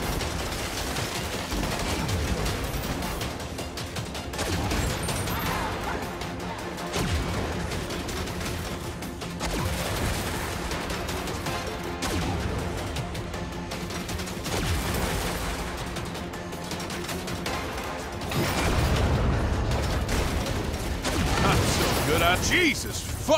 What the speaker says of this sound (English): That falling VTOL must have hit something important. I'm seeing explosions all over.